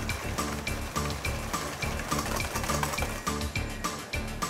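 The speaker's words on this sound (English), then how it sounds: "now all we need to do is whisk our egg whites" Egg whites are whisked to stiff peaks in a bowl for a cheese souffle, giving a quick, repeated light clinking and swishing rhythm, fairly soft and continuous, with no talk.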